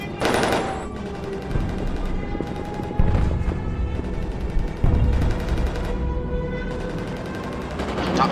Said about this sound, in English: Top turret fires at him.